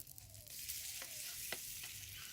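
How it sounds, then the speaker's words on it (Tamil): Kenda fish fry sizzles in a pan with a soft, constant crackle, broken by a few light scrapes or stirs, close up and fairly quiet with no voices. "இப்போ பாருப்பா இந்த ஞாயிற்றுக்கிழமை மீன் வறுவல் தான்"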